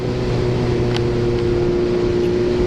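A 1975 Honda CB750 motorcycle held at high revs while riding, a steady loud engine drone mixed with heavy wind rush.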